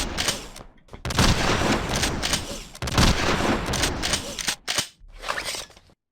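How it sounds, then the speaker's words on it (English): Shotgun blasts in the FPS Creator game Replicore, several loud booming shots separated by short silences, with game noise filling the gaps. "go on then, the shotgun"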